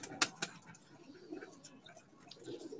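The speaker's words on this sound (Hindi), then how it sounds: "ये भी काफी पुराना कबूतर है" An old pigeon, around fourteen or fifteen years of age, coos faintly on a rooftop loft, soft low calls drifting among distant ambient noise.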